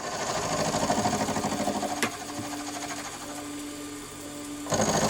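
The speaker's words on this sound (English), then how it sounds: "So we'll get on and machine the top of this" A machine tool cuts the top of a Stuart S50 model engine cylinder held in a vise, giving a steady close mechanical hum with one sharp knock partway through and a louder surge near the end.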